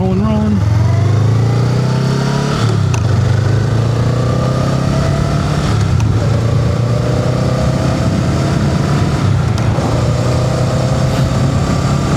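A motorcycle ridden on a road by a new rider on a first ride, its engine droning loudly and close with rising revs and a few gear shifts, wind noise and a voice now and then over it.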